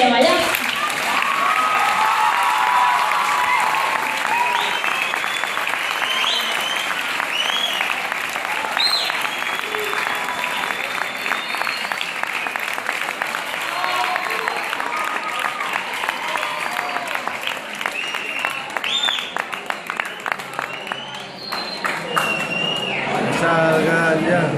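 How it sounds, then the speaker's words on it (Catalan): A second round of applause from a school dance show audience, a long, loud, dense wash of clapping with scattered cheers and voices, sustained for over twenty seconds. "El nostre professorat ens demana un segon aplaudiment"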